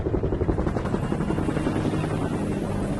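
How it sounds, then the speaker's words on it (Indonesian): The steady rotor thump and engine roar of two FBI helicopters, loud and close, continuing without pause. "tiba-tiba 2 helikopter FBI datang untuk menangkap Swagger"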